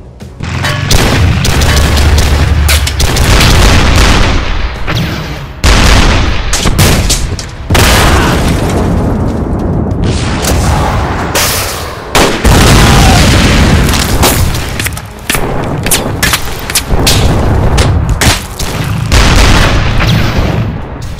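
Artillery fire support pounds a battlefield in an Army Men vs Space Marines animation, with loud deep booms and explosions landing in rapid, overlapping succession and heavy rumbling blasts filling the whole stretch.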